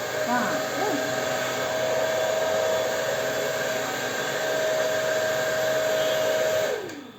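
A hair dryer runs continuously for several seconds with a steady, fairly loud whir and a constant tone before switching off and winding down at the end.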